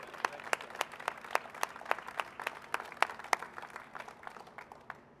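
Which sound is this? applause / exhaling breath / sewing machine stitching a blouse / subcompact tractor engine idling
applause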